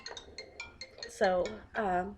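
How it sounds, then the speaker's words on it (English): A mobile phone ringtone plays a string of short, bright, repeated electronic tones at moderate volume; a person's voice then comes in over the final part. "oh, my phone's ringing"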